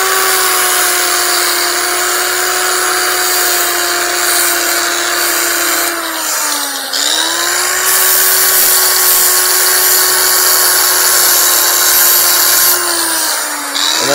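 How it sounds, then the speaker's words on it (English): A power sander smoothing a timber frame tenon for a deck, a loud continuous close whine that dips briefly in pitch as the tool is pressed into the wood, then runs on steadily. "And then I just lightly sand our tenon so everything is smooth."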